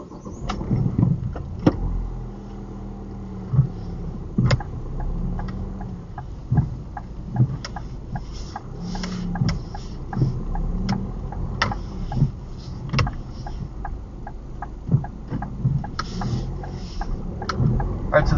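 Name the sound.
car engine running while driving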